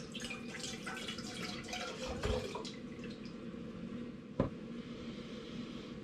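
Hard apple cider pours from a container into a saucepan on a home stove, a steady trickling, splashing stream of liquid with a low background hum and a brief knock near the end.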